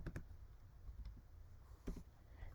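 Faint typing on a computer keyboard: a few light, quick key clicks in short clusters against a quiet room background.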